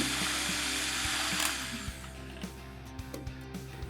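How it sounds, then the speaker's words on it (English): A mixer whirring through buttermilk, eggs and sugar for pancake batter, a steady high motor whine that cuts off midway, followed by faint taps and clinks of utensils against a bowl. "Mix it all together"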